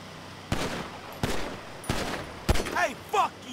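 Pistol gunfire in the video game GTA Online: four sharp, loud shots fired at irregular intervals, each with a brief decaying tail, and short chirping sounds after the last shots.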